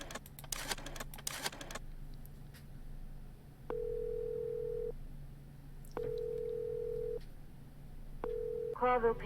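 Telephone dialing tones in the Chicken Police video game: a few rapid keypad beeps, then three long steady ringing tones separated by pauses, ending in another short burst of dialing.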